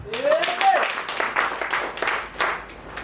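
Church congregation clapping in praise of Jesus during a sermon, scattered hand claps over a short stretch with a preacher's voice rising above them.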